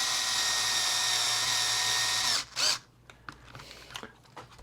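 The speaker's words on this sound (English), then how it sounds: "basically we're just going to drill it in there" A power drill whirs steadily at close range while boring into a Tamiya Clod Buster RC truck axle, then stops abruptly, followed by a short burst and scattered small handling clicks and taps.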